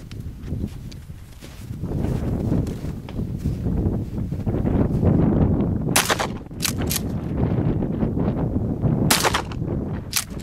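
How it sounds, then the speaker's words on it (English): Shotgun fired with 2 3/4 inch 1 ounce slugs outdoors, a few sharp loud reports near 6, 7 and 9 seconds over steady wind and handling noise. "The third shot is a 2 3/4 inch 1 ounce slug."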